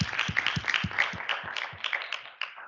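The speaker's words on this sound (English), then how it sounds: "Let's give them a round of applause." Audience applause for speakers at a corporate sustainability event, a brief burst of fairly faint, steady clapping from a modest crowd.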